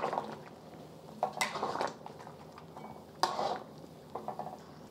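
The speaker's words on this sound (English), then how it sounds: "I'm just going to Give it a stir." Soy sauce chicken wings cooking in a pot are stirred, with soft scraping, knocks of a utensil against the pot and faint bubbling, fairly quiet and close.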